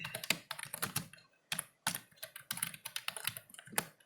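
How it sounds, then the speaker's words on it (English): A g++ command being typed on a computer keyboard: quick, close clattering keystrokes in uneven bursts with a brief pause midway, no voices. "let's just jump into the terminal and type out this command"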